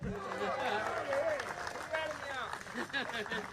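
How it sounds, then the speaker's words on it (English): A small round of applause from a gathering marking a staff member's birthday at a horse racing draw event, steady clapping mixed with voices and talk throughout. "I just want everybody right now a small round of applause"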